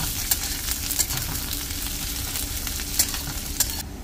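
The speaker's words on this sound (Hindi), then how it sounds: "अब डाल रहे हैं प्याज और मिर्चा, अब इसको अच्छे से चलाएंगे।" Onion and chili fry in a pan as they are stirred, a dense steady sizzle punctuated by several sharp scraping clicks of the spoon, close and without voices, easing off at the very end.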